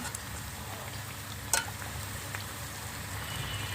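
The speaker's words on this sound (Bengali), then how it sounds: "নিমকিগুলিকে আমি মুচমুচে করে গোল্ডেন ব্রাউন করে ভেজে নেব তাহলে আমি ভেজে নিচ্ছি" Gentle, steady sizzling of nimki frying in oil, with one brief clink of a utensil partway through.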